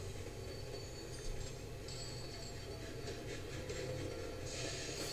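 An express train in the railway video game Railroads! runs steadily, with a continuous rumbling roll, hissing and faint wheel squeals throughout.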